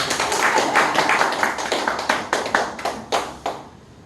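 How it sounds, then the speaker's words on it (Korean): A crowd applauds with dense, steady clapping that thins out into a few scattered claps before fading. "박수 한번 쳐주시죠"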